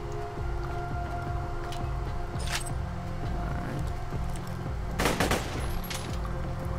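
Automatic assault rifle fire in Borderlands 2, a steady machine-gun rattle under game sound with a louder, denser burst near the end.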